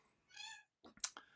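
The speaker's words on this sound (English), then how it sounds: "Oh, my cat's meowing now." A pet cat gives a short, faint meow, with a tonal rise and fall lasting about a third of a second, followed by a few soft clicks and rustles.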